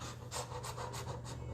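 Heavy, rhythmic panting breaths act out labour contractions, about five quick huffing exhales in a row, close and breathy with no words.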